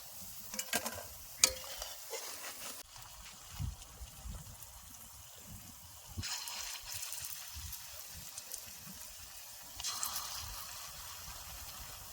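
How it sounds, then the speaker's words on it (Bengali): Eggplant koftas frying in oil in a rural kitchen, a soft steady sizzle with occasional stirring clatters and scraping, fairly quiet and close, with no talk. "এই একইভাবে সব কপ্তা আমি বাজে নেবো"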